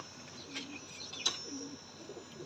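Breeder pigeons coo softly in a loft, with a few low murmuring calls and a sharp chirp set against a quiet, hissy background, all heard at a distance.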